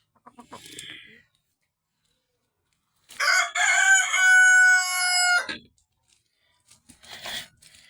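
A Rhode Island chicken lets out a loud, close crow lasting about two seconds mid-clip, with softer clucks and faint calls before and after.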